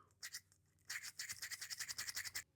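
Bristle pipe cleaners scrub inside a dirty Ascorti Caminetto tobacco pipe, giving a close, soft scratchy brushing in two short strokes, then a fast rhythmic run of quick back-and-forth scrapes.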